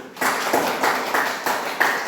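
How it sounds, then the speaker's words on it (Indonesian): A small audience in a classroom presentation claps in a rhythmic group pattern, several regular bursts of close clapping one after another with no talking over it. "nah, tepuk tangan dulu."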